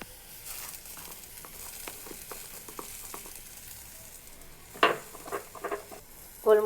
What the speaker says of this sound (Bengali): এখানে শুকনো মরিচটা রাখার কারণ হচ্ছে একটু গরম হতে দিয়েছি, তাহলে এটা টেলে নিতে আমার জন্য সুবিধা হবে